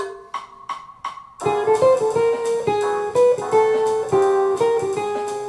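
A clean electric jazz guitar starts with a few soft plucked notes, then plays a flowing single-note lick over descending 2-5-1 chords that steps downward, close and clear.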